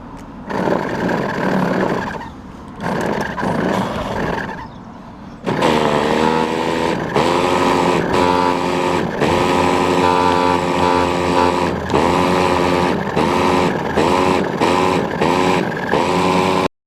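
A Hobao Hyper ST nitro RC truggy engine sputters briefly, then catches and screams at high pitch, revved in repeated sharp blips, loud and close.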